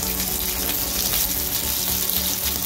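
Beans dropped into hot oil with cumin, garlic and dried chilli, giving a loud, dense, continuous sizzle and crackle that stays steady throughout.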